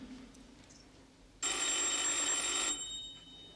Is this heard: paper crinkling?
no